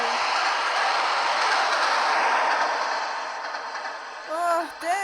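Video game Evil Train, with a train rushing past as a loud, steady roaring rumble that fades slightly toward the end, followed by brief synthetic game tones.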